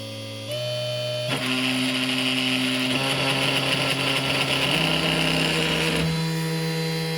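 A small benchtop mini wood lathe with its motor set to the 12 volt speed setting, giving a loud, steady mechanical whine and hum whose pitch steps up a few times as the speed changes, with no talk over it.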